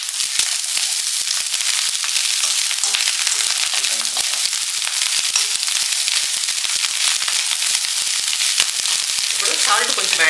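Chicken fried rice sizzles loudly and continuously on a high flame after soy sauce is added, with crackling spatters throughout and brief clatter near the end.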